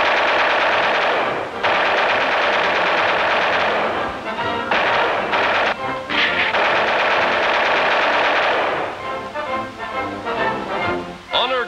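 A 50 caliber machine gun fires from an aircraft at small moving targets during World War II air gunner training, sustained loud rapid bursts with short breaks near the middle and choppier, broken fire toward the end.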